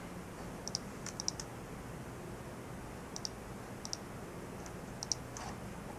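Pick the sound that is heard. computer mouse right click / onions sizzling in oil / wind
computer mouse right click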